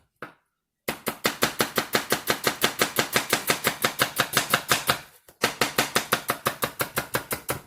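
A knife chops onion into thin shreds on a board in a fast, even series of crisp close strikes, two quick runs with a short pause between them, with no talking.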